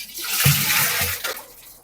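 Water poured and stirred into a homemade Gokrupa Amrutam liquid fertilizer made with buttermilk, a short close splashing, sloshing burst lasting under two seconds with no talk.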